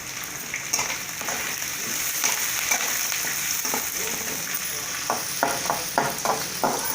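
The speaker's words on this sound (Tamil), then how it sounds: "வெங்காயம் நல்லா வணங்கட்டும்" Large onions fry in a pan for a Tamil cabbage fry. A steady, fairly loud sizzle runs throughout, with scraping stirring strokes that grow more frequent toward the end.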